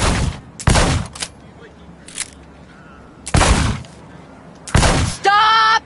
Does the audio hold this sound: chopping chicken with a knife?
no